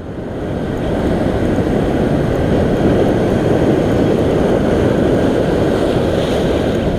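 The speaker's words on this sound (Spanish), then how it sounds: "el mar está duro duro, ¿eh?" Rough sea waves from a fishing shore, a loud, continuous roaring surge of water and wind that builds in the first second and then holds steady, with no voices.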